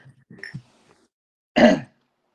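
A single short, harsh cough bursts out close by after a stretch of quiet, faint murmuring, from a man with a scratchy, irritated throat.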